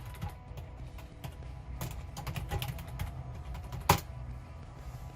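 Clicky computer keystrokes tapped at an uneven pace to enter a password while setting up a fresh Windows install on an old Dell R620 server, with one sharper knock near the end.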